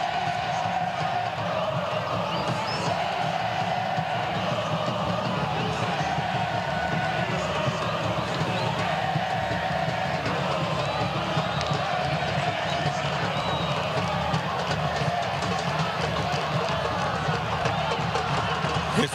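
Vitória supporters applaud and celebrate in a stadium after a Baianão semifinal against Barcelona, a dense, steady crowd roar with clapping and cheering that holds without a break, with commentary running over it.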